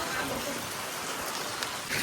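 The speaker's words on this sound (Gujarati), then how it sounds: "મસ્ત વરસાદ ચાલુ થઈ ગયો છે," Rain falling outdoors, a steady broad hiss of drops on surfaces at moderate level, continuous throughout.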